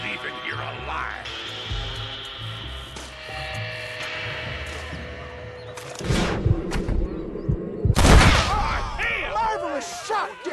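Gunfire in Red Dead Redemption on Xbox One, with booming shots and a burst of loud blasts near the end, set over continuous game music, ambient sound and voices.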